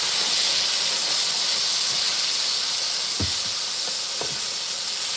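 Butter melts and steak sizzles in a hot pan, a loud, steady broadband hiss of frying that fills the whole stretch, with a few soft knocks near the end and no speech.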